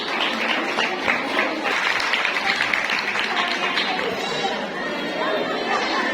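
At a Women's Day gathering in a parish hall, an audience claps continuously, the applause mixed with lively chatter and voices throughout at a fairly even, moderately loud level.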